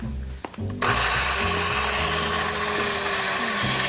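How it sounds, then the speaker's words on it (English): A kitchen blender whirs loudly and steadily, grinding peanuts, oil and salt into peanut butter, starting up with a sudden burst after a brief moment of quiet and then running continuously at close range. "Then blend your ingredients for 25 seconds."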